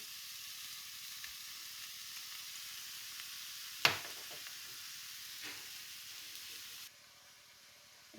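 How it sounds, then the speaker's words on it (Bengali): Tomato puree hits hot oil and frying spice masala in a pan for a fusion samosa filling, giving a steady close sizzle with a sharp splash-burst partway through, then the frying hiss drops away near the end. "এখন আমি টমেটো পিউরি দিয়ে দিচ্ছি"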